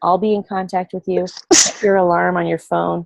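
A single sharp, loud sneeze breaks in during a Zoom team call, wedged between stretches of close talking.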